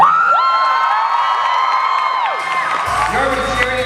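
At a Comicpalooza 2015 panel, an audience lets out high, excited whoops and shrill cheers, many voices overlapping and loud, fading slightly before a burst of noise near the end.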